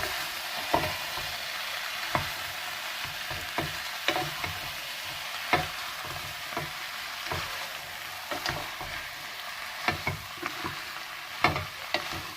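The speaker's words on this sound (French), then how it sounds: "Et on va remuer tout ça." Chicken gizzards seasoned with salt and pepper sizzle steadily in a pan while a utensil stirs them, giving frequent sharp scraping clicks in an irregular rhythm, close and fairly loud, with no voices.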